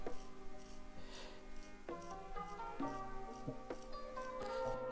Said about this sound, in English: just wiping down the pins with the brush